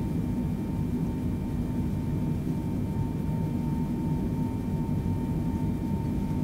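In Microsoft Flight Simulator 2020, an airplane rolls down the runway with a steady, low engine rumble and faint sustained tones. The sound holds even throughout, with no voices.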